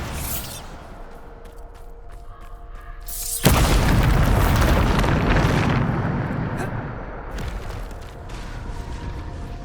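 A Bombarda explosion spell from the video game Hogwarts Legacy erupts in one loud, deep boom about midway, its rumble trailing off over several seconds after quieter game sounds.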